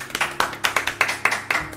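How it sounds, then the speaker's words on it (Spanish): Quick, sharp handclaps ring out at a church service in a steady rhythm, about eight claps, close and fairly loud, with no talking. "el cual vamos a recibir con un fuerte aplauso"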